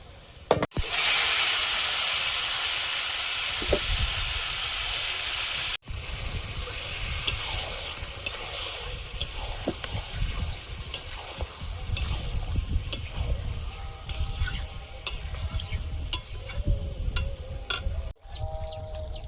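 Chicken meat goes into onions fried to a deep red with tempering spices in a pan, setting off a loud, close hissing sizzle. It then settles into steady frying with irregular scraping stirs, with no talk.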